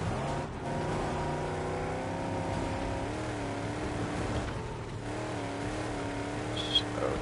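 An engine drones continuously while a car is driven in the Mad Max video game, its pitch rising and falling as the vehicle accelerates and eases off, with a small click near the end.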